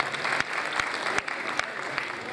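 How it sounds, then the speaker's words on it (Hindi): Steady audience applause at a cosmetics facial lucky draw event in Faisalabad, a dense continuous patter of many hands with a few sharper accents, fairly loud and close. "एक दफा फिर से जरा ताली होनी चाहिए।"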